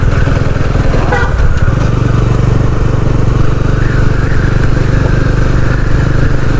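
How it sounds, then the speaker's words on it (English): A jeep drives along a forest road, its engine a steady loud rumble with some clatter throughout, close and continuous. "Look at this jeep coming."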